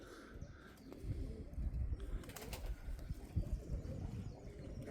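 A sparrowhawk beats its wings as it struggles to fly, giving a run of muffled, irregular low flutters close by, with no voices.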